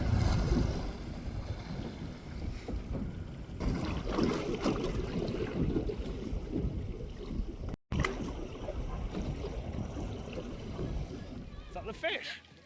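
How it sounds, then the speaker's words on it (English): Strong easterly wind buffets a fishing boat at sea off the UK, with whitecaps building and wind over tide, roaring steadily into the microphone with water sloshing beneath and people talking throughout. "this easterly wind's not meant to happen"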